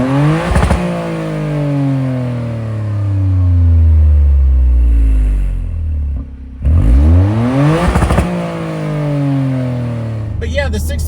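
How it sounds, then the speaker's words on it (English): A Toyota GR Corolla's 3-cylinder engine revs up repeatedly, the exhaust note rising and falling in loud sweeps with a brief pause between bursts. "I'll show you the exhaust clips here"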